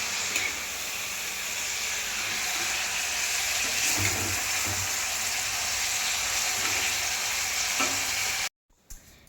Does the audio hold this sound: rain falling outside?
no